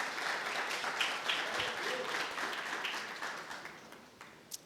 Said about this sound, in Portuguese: Quem concorda, diga amém, e dê um aplauso a Jesus.